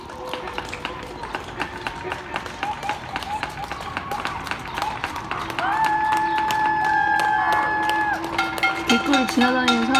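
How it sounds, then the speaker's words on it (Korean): Scattered neighbours clap from balconies and windows along a city street for medical workers, a dense patter of echoing claps with a rising siren-like tone midway and people talking nearby. "박수 엄청 치는데 창문을 이렇게 보면 발코니나 창문에 나와서 박수 치는 것 같아요"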